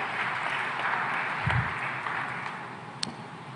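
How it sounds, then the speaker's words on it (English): Steady applause from a conference audience at an African food systems forum, a moderate continuous patter of many hands with a few louder claps standing out. "A big round of applause for her as well"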